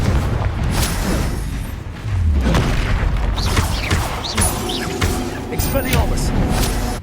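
Confringo blasting spell cast in Hogwarts Legacy: deep booming explosions and thuds over a busy game soundscape, loud and close, with a voice speaking over parts of it.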